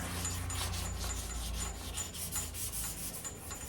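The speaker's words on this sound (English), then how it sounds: "I'll finish the edges with a hand sand." Steady rasping hand sanding along the edges of a VW Beetle body during paint prep, a close, soft, continuous scrubbing with a quick repeated stroke rhythm and no voices.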